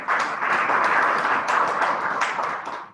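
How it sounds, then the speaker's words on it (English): Audience at a school annual day function clapping to welcome a young special guest, a full round of applause that swells quickly, stays steady and fades out near the end. "Thus, a big round of applause for him."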